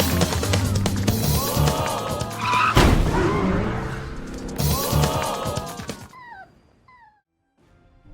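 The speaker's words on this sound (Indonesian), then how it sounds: "Namun setelah itu dirinya malah tertabrak truk." A truck strikes a person in a film scene: dense engine roar and screeching, tyre-like sounds build and surge, then cut away to near silence with a few faint high chirps.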